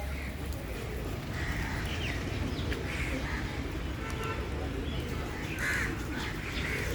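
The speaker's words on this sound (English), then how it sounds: "Is that a one-legged crow down there?" Crows caw repeatedly at a bird feeding spot in Ludhiana, some calls nearer and louder than others, over a steady outdoor murmur with faint voices.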